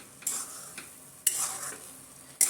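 Semolina dough being stirred in a pan for sev, with repeated scraping strokes of a spoon against metal, each a short gritty swish, close and clear with no talking.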